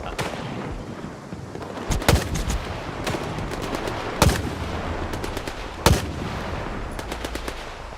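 Player gunfire in STALKER 2: Heart of Chornobyl, a scatter of sharp single shots and short bursts over a busy combat background, with three loud, close cracks standing out.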